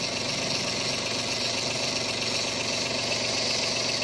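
A Suzuki Carry DA63T truck's 660cc K6E engine idles steadily up close, a continuous even rumble with a faint rattling knock and no pauses.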